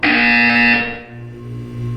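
A loud electronic buzzer sounds in Portal 2, one harsh sustained tone that cuts off after under a second, leaving a fading hum.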